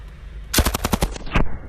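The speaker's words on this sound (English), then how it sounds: "Due to the sound of this machine gun, I am once again speaking to you using my mind." Short burst of machine gun fire, about seven rapid loud shots in a tight rhythm followed by a single trailing shot, alone with no talking.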